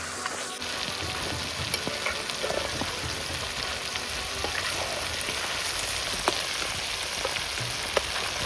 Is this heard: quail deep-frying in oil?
yes